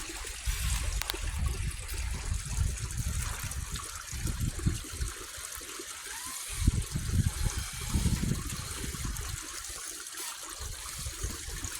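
Water rushes steadily down a waterfall on a hiking route between Roberson and Waynesville, North Carolina, a continuous broadband wash with gusty low rumble, heard close and unbroken throughout.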